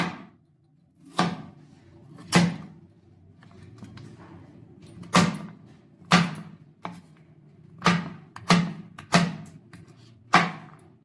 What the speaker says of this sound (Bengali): এইভাবে আমি পাতলা পাতলা করে কেটে কুচি কুচি করে নেব।